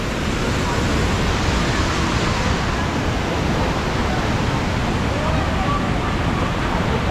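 Steady, dense roar of Taytay Falls cascading in Majayjay, Laguna, a broad continuous wash of water rushing without pause for the whole stretch, close and full, with no voices over it.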